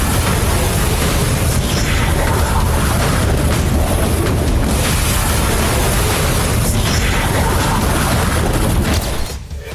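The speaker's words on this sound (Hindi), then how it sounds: "यह मिसाइल आवाज की गति से भी तेज गति से निकलती है" A BrahMos supersonic cruise missile launches with a loud, sustained roaring blast that stays at full force throughout and cuts off abruptly at the very end.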